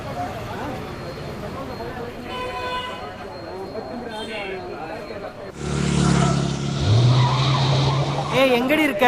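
A vehicle brakes hard and skids to a stop, a loud, sustained tire screech that swells up midway through and holds under a murmur of voices and background noise.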